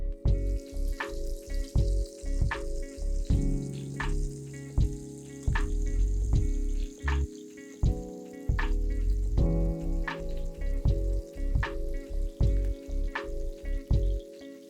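Semolina and rice flour coated mackerel pieces frying in a pan for a Goan style fish fry, a loud close sizzle broken by repeated sharp crackles and pops throughout, with no voices.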